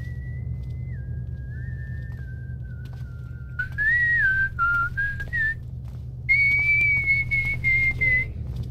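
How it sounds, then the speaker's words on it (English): A person whistles a wavering, continuous tune that steps between pitches, growing louder and brighter midway, over a steady low background drone from a stealth video game. "Just whistling, whistling, whistle"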